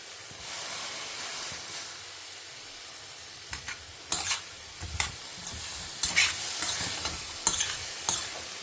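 Bottle gourd sautés in a hot pan with a steady soft sizzle while a spatula stirs and scrapes, giving intermittent louder scraping bursts toward the end; close and clear, with no talking.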